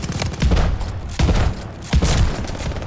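Combat shotgun blasts in the Call of Duty Vanguard video game, three or four heavy booming shots spaced roughly every half second to a second, loud and close, with no talking.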